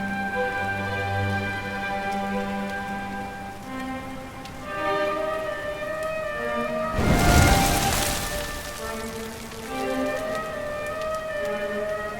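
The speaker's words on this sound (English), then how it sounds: "Looks like the rain's dying down." Rain falling in the video game Dragon Quest XI S, a steady soft patter under sustained musical tones, with a louder rushing swell of rain midway before settling back under the music.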